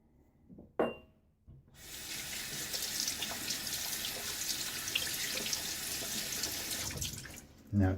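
Tap water runs steadily into a sink for several seconds while rinsing after a shave with a Gillette safety razor, close and fairly loud, with brief knocks and splashes before the flow starts and as it ends.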